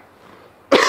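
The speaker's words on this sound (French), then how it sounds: "pardon pour la petite toux." A single short, sharp cough bursts out at the very end after near silence, close and fairly loud.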